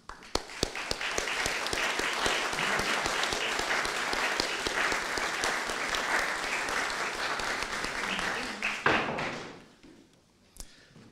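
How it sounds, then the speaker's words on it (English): Audience applause at a university graduation ceremony, loud and steady for about nine seconds with a few sharper thuds near the start, then tapering off abruptly into near quiet. "let's have a round of applause for all those special people who are celebrating here with you today, your family, your friends"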